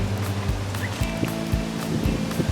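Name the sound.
wind blowing outdoors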